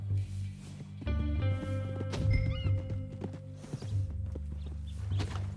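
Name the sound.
horse neighing in a video game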